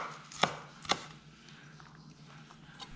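A knife chops cheesecake ingredients into small pieces on a board: two sharp, close knocks in quick succession, then fainter taps and light handling noise, with no talking.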